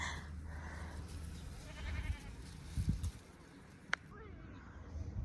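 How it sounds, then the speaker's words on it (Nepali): A goat bleats a few times in a village setting, short calls partly under faint background noise and a bird's chirp. "उहाँ बाख्रा कराइरहेको छ"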